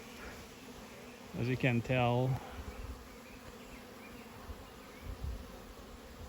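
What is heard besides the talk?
honey bees buzzing at hive entrance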